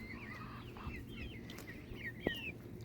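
Hens and roosters cluck and chirp softly in a backyard flock, several bird calls overlapping in quick, uneven bursts at a moderate distance, with a brief sharp knock partway through.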